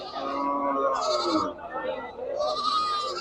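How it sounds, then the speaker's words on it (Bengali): Goats bleat repeatedly in strained, nasal cries close by at a livestock market, with a few overlapping calls and a voice speaking underneath. "দেখেন পাটি ছাগল এখানে রয়েছে"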